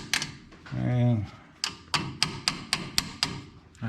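A voice speaks briefly, followed by a series of sharp, evenly spaced metallic taps, like a hammer striking repeatedly at close range, in a garage during steering and brake work on a 1997 GMC.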